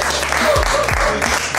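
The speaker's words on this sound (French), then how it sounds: "merci d'applaudir pour notre comédien" Audience applause for a comedian in a hall, a dense, loud wash of clapping that holds steady throughout, with a few low thumps underneath.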